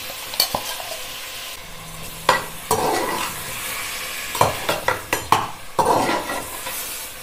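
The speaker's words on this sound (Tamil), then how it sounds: "இது கூடயே நாம் இப்போ மட்டன் சேர்த்துருவோங்க." Mutton for mutton chukka fries in a pan with ginger-garlic paste and turmeric, sizzling softly under repeated scraping, clattering stirs of a metal spoon against the pan.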